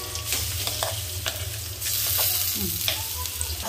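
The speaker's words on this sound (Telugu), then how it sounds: "ఇప్పుడు దీన్ని ఇలా మిక్స్ చేసుకోవాలండి" Cabbage chutney being stirred in a pan, a steady soft scraping and mixing sound over a continuous low sizzle, close and moderately loud with no talk.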